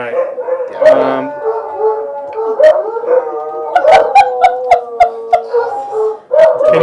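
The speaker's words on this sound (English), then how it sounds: "Can you hear the dogs, Ryan?" Several dogs howl in long, wavering tones, joined by a few short yips and barks in a quick burst partway through, fairly close and loud, with a voice talking over them at times.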